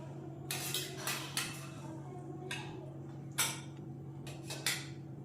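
Plates and cutlery clinking in a home kitchen as fried hilsa fish cooked with poppy seed paste is served out, a handful of sharp close knocks and scrapes spread over a few seconds against a steady low hum.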